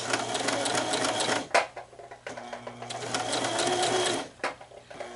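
A sewing machine runs in steady bursts as a small half-inch seam is stitched around a teddy bear, its close mechanical whir pausing briefly twice before starting up again.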